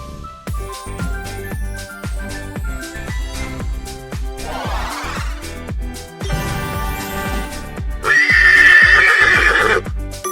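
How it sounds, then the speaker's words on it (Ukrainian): A horse neighs loudly in a long, shrill whinny, with hoof clip-clops and a faint jingle beneath; no talking. "Це кінь."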